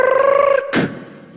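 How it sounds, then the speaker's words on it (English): A telephone ring tone heard when calling a voicemail, a single steady tonal ring that cuts off, followed by a short burst of noise. "So you call Muhammad Mu'ani up on his voicemail"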